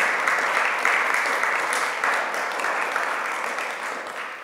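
Audience applause fills a festival talk hall on education and democracy, a dense steady clapping from a large crowd that holds strong throughout and fades slightly toward the end.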